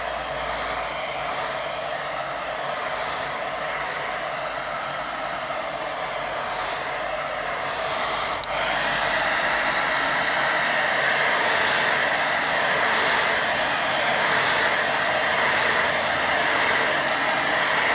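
A hair dryer blows steadily to dry a watercolour beach-scene painting, a loud continuous whirring roar that steps up in intensity partway through and holds, close to the listener, with no talk.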